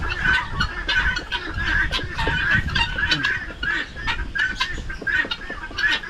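A six-month-old young hen clucks over and over in short, close, fairly loud bursts with an uneven rhythm, alone and without talk.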